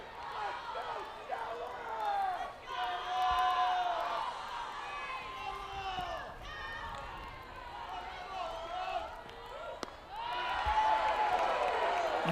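A packed crowd at Bogle Park cheers and shouts during an Arkansas versus Kentucky softball game, a loud, sustained roar of voices that rises and swells, with an announcer talking over it.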